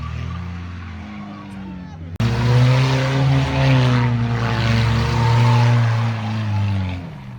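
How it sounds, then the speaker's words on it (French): A Renault Twingo engine revs hard at full throttle, a loud sustained buzzing drone that cuts in abruptly and holds steady with a slight rise and fall in pitch, close by. "à fond. Moteur au régime."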